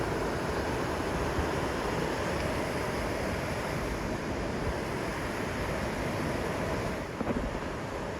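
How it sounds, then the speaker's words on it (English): River rapids roar at McConnells Mill in a constant, even wash of rushing water, heard outdoors from a viewpoint without voices. "Pretty good rapids there."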